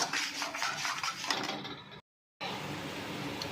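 Spice paste with turmeric is stirred and scraped in a pan, a busy close clatter and grating of metal, broken by a brief total silence before the scraping resumes.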